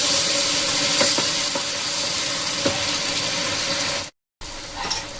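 Split green chillies and other ingredients stirred together in a hot pan for paneer bharta, a loud continuous sizzle with occasional scraping strokes, briefly cut off near the end.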